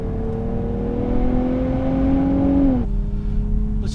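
A 2023 Nissan Z's turbocharged engine revs as the driver accelerates, a steady rising drone heard from inside the car that climbs in pitch, then drops abruptly as the revs fall away.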